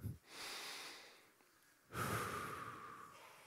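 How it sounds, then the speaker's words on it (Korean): A lecture audience draws a deep collective breath and then exhales together. The breathing swells as a broad rush, close and fairly loud, and no one speaks over it. "여러분 저랑 같이 한번 심호흡 한번 해 보실까요?"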